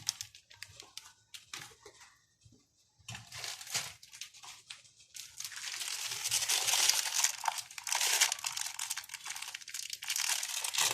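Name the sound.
plastic bag of salt crinkling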